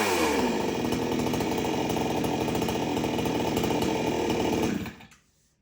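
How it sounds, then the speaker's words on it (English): A farm chainsaw runs at a loud, steady high-revving buzz close by, then its engine cuts out and quickly winds down to silence near the end. "they're very good saws"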